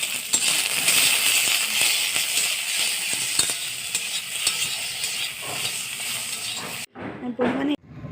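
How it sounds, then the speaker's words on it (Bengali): Nigella seeds and turmeric sizzle loudly in hot oil, a steady hiss broken by scattered pops and the scrape of stirring, with the frying cutting off near the end to a couple of brief clinks. "কালো জিরা ফোড়ন দিয়ে দিয়েছি, হলুদ,"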